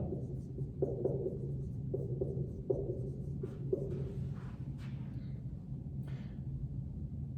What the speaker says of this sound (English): Let's write down the formula.